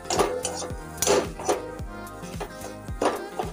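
A spatula scrapes and knocks against a metal kadai while gram flour filling for cauliflower paratha is stirred, giving irregular clanks and metallic rings over a low background.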